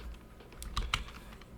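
A few quick keystrokes on a computer keyboard while script code is typed, soft clicks close by in a short cluster, with no speech.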